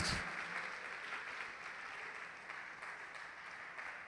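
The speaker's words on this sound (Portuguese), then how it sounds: "Vamos aplaudir a Jesus" A church congregation claps together during a sermon, a steady, moderately distant wash of applause that holds evenly for a few seconds.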